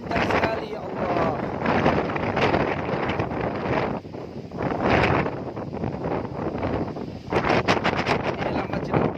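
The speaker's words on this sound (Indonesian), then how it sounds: "Anginnya kencang sekali, ya Allah." Strong wind at the Al-Aqsa Mosque compound at night roars and buffets the microphone continuously, with loud gusting surges rising and falling throughout.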